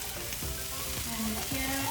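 Chopped onions fry in hot coconut oil with a close, continuous crackling sizzle that holds steady for about two seconds, with faint clatter in the pan.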